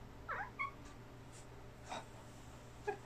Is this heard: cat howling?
yes